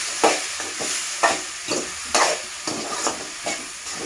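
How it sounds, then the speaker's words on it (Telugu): Tomato is stirred into an eggplant and okra curry in a pan, with a spoon scraping in a steady rhythm of repeated strokes over a soft, continuous sizzle. "ఇప్పుడు మనము టమోటా వేసేసుకోవాలి టమోటా వేసుకొని బాగా కలుపుకోవాలి"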